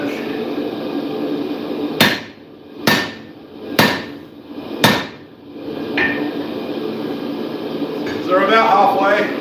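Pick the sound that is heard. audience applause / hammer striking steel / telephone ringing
hammer striking steel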